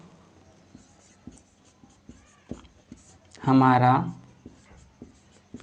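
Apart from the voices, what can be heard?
writing out a maths solution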